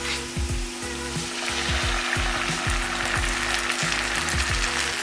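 Crushed tomato sizzles and spits against golden-brown fried onions in a hot pan, a steady close frying hiss with soft crackles and occasional stirring scrapes throughout.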